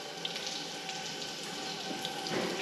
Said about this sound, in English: You can see the whey starting to drip out of the bottom of those